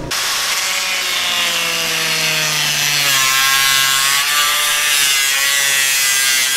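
A power saw cuts a hole through an RV roof for a 12-volt vent fan. Its loud, steady buzzing whine runs close up for the whole stretch, shifting in pitch as the blade loads in the cut, with no talk.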